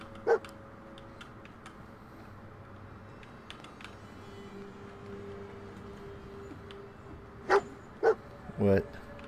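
Dog barks in Fallout 4, a few sharp yelps and woofs clustered near the end over a steady game ambience, with a brief bark at the start.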